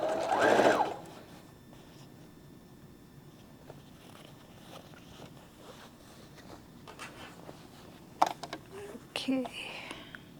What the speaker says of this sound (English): you want to sew at the edge of the ribbon